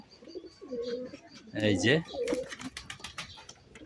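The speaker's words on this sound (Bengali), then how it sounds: "এই যে একেবারে সেই সুন্দর একটি নর কবুতর" A male pigeon coos in soft, throaty bursts at close range, with someone speaking briefly alongside and some rustling and handling noises toward the end.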